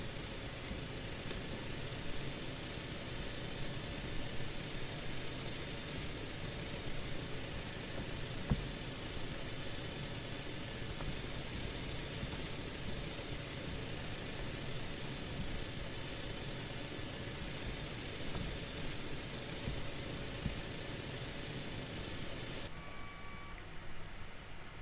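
Helicopter hover taxiing in the military game ArmA, a steady faint engine and rotor drone with a constant whine, even and unbroken throughout with no talk.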